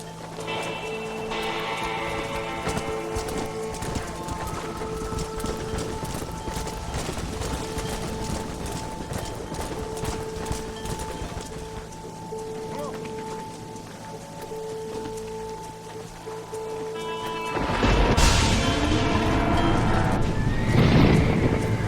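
Horses whinny and neigh repeatedly over a dense rumble of galloping hooves in a Red Dead Redemption stampede scene, loud and continuous, swelling into a louder burst near the end, with no talk.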